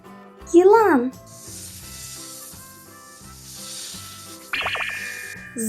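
A snake gives a long, soft, airy hiss that holds steady for several seconds, set between brief louder tonal sounds at the start and near the end.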